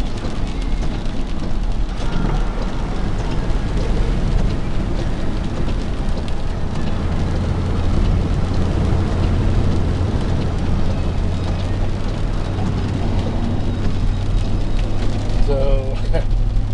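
Heavy rain from Tropical Storm Cindy pours down in southwest Ohio as a loud, unbroken wash of noise that lasts the whole time, with a voice talking over it.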